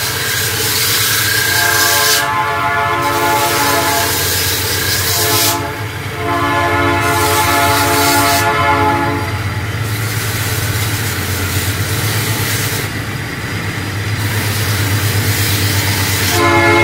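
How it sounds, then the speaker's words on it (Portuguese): A train passes along the back of a rural smallholding, rumbling steadily and loudly with repeated long blasts of its horn, several sustained honks separated by short gaps. "Buzina, pessoal, o trem passa aqui do lado, dos fundos da chácara."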